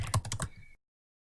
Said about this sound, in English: I'm going to go ahead and type in a number